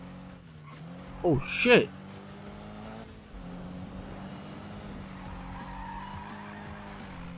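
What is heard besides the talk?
car engine growl in Need for Speed video game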